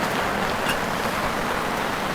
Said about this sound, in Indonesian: Sementara hujan masih terus turun guys dari jam 1 tadi.